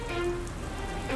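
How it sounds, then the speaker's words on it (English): Rain beginning in a children's cartoon about construction vehicles, a brief dense patter of rainfall over a soft sustained musical tone, steady and close with no talking. "Uh-oh, I think it's going to rain."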